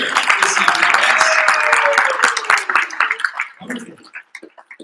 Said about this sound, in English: Let's give a round of applause, everyone, for being here this evening.